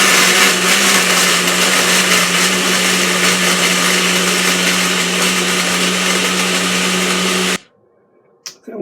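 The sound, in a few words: HadinEEon blender blending in small tumbler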